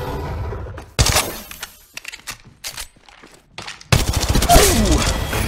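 Gunfire bursts from the mobile game Apex Legends Mobile, rapid loud volleys near the start and a dense sustained stretch of shooting and impacts toward the end, with quieter scattered shots in between.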